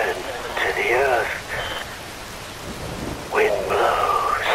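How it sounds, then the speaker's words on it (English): Wind, rain and thunder during a storm in Metal Gear Rising: Revengeance, a steady roar of downpour with low rumbles beneath, while a deep voice speaks over it. "Wind blows, rain falls. The storm."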